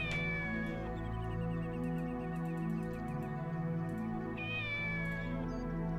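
A cat in the video game Shenmue meows in two drawn-out, plaintive calls, one at the start and another near the end, heard clearly over a low ambient game background hum.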